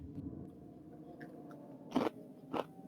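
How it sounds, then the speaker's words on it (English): Someone chewing nearby, with soft crunching bites and two sharper, louder crunches near the end over a quiet background. "I hear someone chewing."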